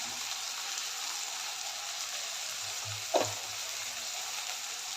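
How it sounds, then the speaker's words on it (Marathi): Onion and tomato frying in a pan for a mixed vegetable kurma, a steady soft sizzle throughout with a brief scrape or stir near the end, quiet and close. "सर्व कांदा टोमॅटो भाजत आलेला आहे"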